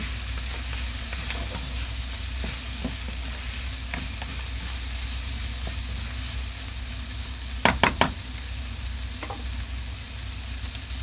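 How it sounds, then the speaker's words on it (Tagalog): Shrimp added to a hot frying pan for petchay with tawsi, a steady close sizzle throughout with a few sharp clinks of a utensil against the pan near the middle. "ilagay natin yung ating hipon"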